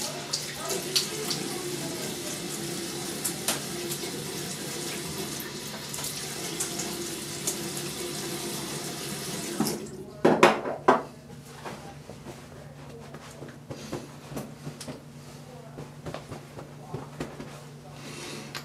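Tap water gushes loudly into a sink for several seconds while a freshly shaved head is rinsed, then cuts off, leaving quieter drips, clatters and small handling sounds.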